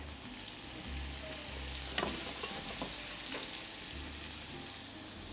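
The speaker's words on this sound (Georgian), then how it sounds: "აი ესე შეუბრაწოთ უბრალოდ ყველა მხრიდან ოდნავ სულ ოდნავ ნივრიანი ზეთი მოვაყართ" Chicken browning in a pan of garlic-infused oil, a steady, fairly quiet sizzle with a few clinks and scrapes of a utensil, close by and free of speech.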